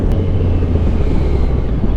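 Engine roar from a moving Yamaha Tracer 900 GT motorcycle blends with heavy wind rush, loud and steady throughout the short stretch.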